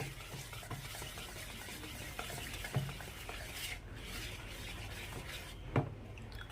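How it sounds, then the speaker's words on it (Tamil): Lava cake batter being stirred together with cooled melted butter in a home kitchen, a steady soft scraping and sloshing with a couple of louder clinks of the utensil against the bowl, close and alone without talk. "இப்போ இதை வந்து நான் மிக்ஸ் பண்ணி எடுத்துக்கிறேன்"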